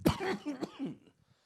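A single close cough with a rough throaty burst, trailing off quickly into quiet.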